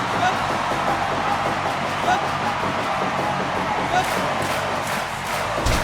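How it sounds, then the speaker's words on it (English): A wrestling crowd at a backyard house-show match roars in steady, dense cheering for Mag.Lo, a continuous wash of voices with occasional louder swells of shouting. "And the crowd once again trying to get behind their guy, trying to get behind Mag.Lo."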